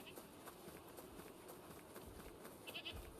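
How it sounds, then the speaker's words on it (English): A goat bleats inside the video game Wuthering Waves, a short call near the end of the stretch, rising over a busy, steady bed of game ambience and footsteps. "There's a goat."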